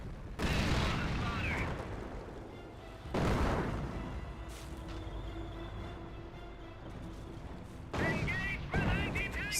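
Booming artillery blasts and explosions from a Company of Heroes 1 battle, with heavy bursts near the start, around three seconds and again near eight seconds, separated by a lower rumbling battlefield din.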